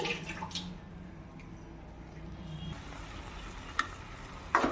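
Grated raw papaya halwa with sugar and sweet khova fries in a pan, giving a soft, steady sizzle close up with occasional stirring scrapes and small clinks, with no talking.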